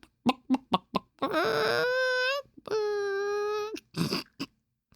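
A man imitates a chicken with his voice: a few short clucks, then two long, loud, drawn-out squawking calls, and a final burst of clucking.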